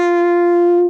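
A single French horn note played with tight lips, a bright, steady tone rich in harmonics, sustained for under a second before a quick release, close and clear with nothing else heard.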